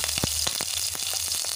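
Fenugreek, mustard seeds, cumin and green chillies crackle and sizzle steadily in hot oil in a kadai, with a few sharp pops over a constant bright hiss and no talking.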